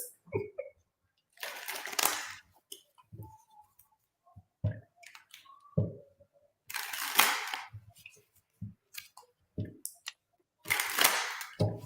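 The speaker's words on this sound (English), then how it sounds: "Keith, as I'm shuffling and focusing" A deck of cards is shuffled close by in bursts of riffling, several separate rapid fluttering runs broken by quieter taps and clicks of the cards, with no talking.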